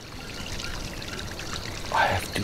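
Water runs steadily at night in the Magaliesberg Mountains, a soft trickling flow with a brief louder splash near the end.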